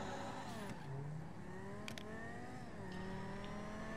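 Several race cars in GTA 5 roaring off a race start, engines revving and climbing in pitch with gear shifts, a loud continuous blend of motors up close.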